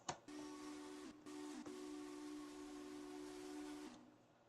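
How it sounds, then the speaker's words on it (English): A steam locomotive whistle blows a long, steady tonal blast with brief breaks, soft and distant over a hissy background, fading out at the end with no talking. "You can hear her whistle in the distance."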